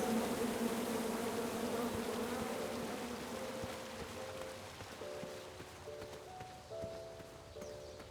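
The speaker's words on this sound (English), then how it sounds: "Come at me, bees!" A swarm of angry bees in the King's Quest (2015) video game buzzes in a dense, continuous drone that slowly fades, with faint game music tones entering toward the end.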